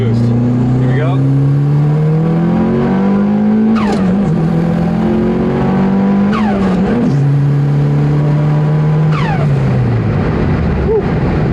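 A rebuilt Mitsubishi Evo accelerating hard under boost at a drag track, a loud continuous engine roar climbing in pitch through several gears with sharp shift breaks, heard from inside the car.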